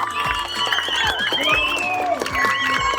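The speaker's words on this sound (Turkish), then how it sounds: "alkış alabilir miyim Nurat Nurettin Bey'e?" Audience applause at the closing ceremony of the Soft Cup 2024 tournament, a dense steady wash of clapping lasting throughout with cheering voices and tonal sounds mixed in.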